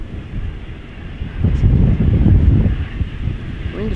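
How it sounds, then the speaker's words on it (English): KLM Boeing 787 Dreamliner departing Amsterdam Schiphol Airport, its low engine roar swelling up close from about 1.5 seconds and holding steady, with wind buffeting the microphone throughout and no talking. "Next up, KLM Dreamliner 78710."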